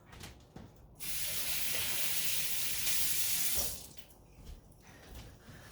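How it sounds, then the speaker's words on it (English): Running water from a kitchen sink tap gushes steadily for about three seconds while jalapeno seeds are rinsed out, starting and stopping abruptly. Quieter handling noises come before and after. "then I'll rinse these seeds out into the sink."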